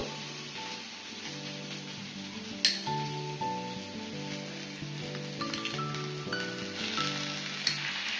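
Continuous crackling sizzle of potatoes and peanuts frying in a pan for mini singara filling, with occasional stirring clinks, under soft background music.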